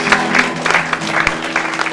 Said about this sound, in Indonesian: Yang percaya beri tepuk tangan yang meriah bagi Tuhan Yesus.